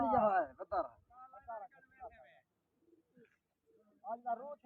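Soft, faint coos of flying pigeons come in short bursts with quiet gaps between them, under a murmuring voice.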